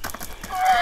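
A horse from a stud farm, a young stallion, makes short rhythmic snorting and shuffling sounds close by, with a rising whinny-like tone toward the end.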